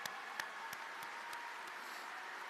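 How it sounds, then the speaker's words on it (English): Audience applause at a Packers Hall of Fame induction ceremony, a steady wash of clapping from a crowd with a few sharper individual claps standing out. It is faint and distant throughout. "Let's give her a round of applause."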